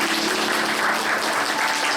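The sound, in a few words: congregation applause of blessing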